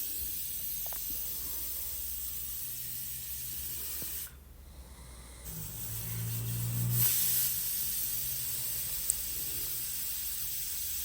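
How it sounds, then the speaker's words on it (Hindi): Steady hissing rush of steam venting from a pressure cooker whistle in a home kitchen, fairly loud and continuous, briefly dropping away before swelling again with a deeper surge. "तो यहाँ पर सीटियाँ आ गई थी कुकर में।"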